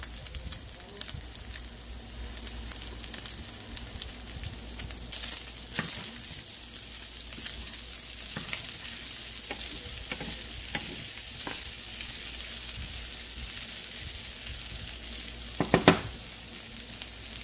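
Meat browning in a hot pan sizzles and crackles steadily up close, with occasional stirring scrapes and a sharper burst of spatter near the end.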